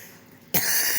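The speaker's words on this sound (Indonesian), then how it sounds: "Bapak batuk, ya, lagi pilek" A man with a cold lets out a single abrupt cough close by after a quiet moment, harsh and noisy, trailing off into breathy rasp.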